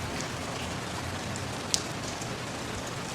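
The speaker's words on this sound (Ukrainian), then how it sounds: "А це дощ." Steady rain pattering on a surface, a dense even hiss of drops with one sharper tick partway through.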